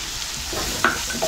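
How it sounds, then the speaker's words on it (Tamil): Gooseberries sauté with turmeric and fenugreek powders in a pan over medium flame, making a brief close sizzle with a couple of sharp stirring scrapes. "ஒரு 5 நிமிஷம் மீடியம் ஃப்ளேம்ல வச்சு நல்லா வதக்கிக்கிட்டா அந்த பொடியோட பச்சைவாடையெல்லாம் போயிடும்"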